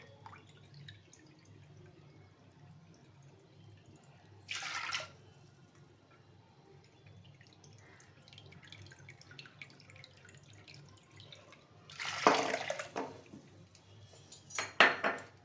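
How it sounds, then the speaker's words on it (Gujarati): Water is poured from a bowl into a pressure cooker holding chana dal, with two short close bursts of splashing and trickling separated by quiet kitchen pauses. "હવે આપણે આ 1 વાટકી છે તો 2 વાટકી પાણી નાખશું બાફવામાં।"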